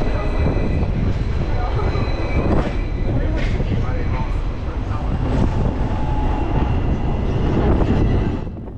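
A Hong Kong tram rolls along its track through busy streets, a steady loud rumble with rattling and clunks of the car, passing a long line of eight trams; some voices in the background.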